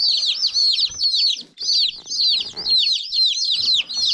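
Dense, continuous high-pitched peeping from a group of newly hatched chicks in a brooder, close by, with faint low rustling underneath.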